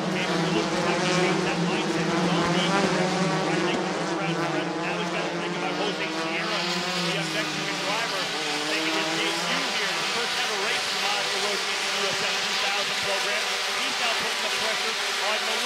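Race cars at the 2017 Toronto street circuit race scream past in a steady, loud, continuous engine roar with shifting pitch, while a commentator talks over it throughout.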